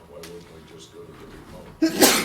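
A sneeze bursts out loudly near the end, right after a man's question in a city council meeting room, cutting through the quiet room tone.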